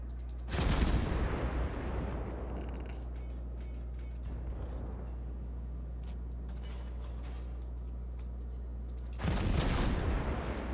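Naval guns fire in World of Warships, with two heavy booms several seconds apart that decay into long rumbling tails, and creaking, mechanical ship noise continuing faintly between them.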